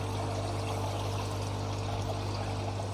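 Water falls steadily into a DIY hydroponic tank, a loud continuous splashing and bubbling pour with a low hum beneath, unbroken throughout.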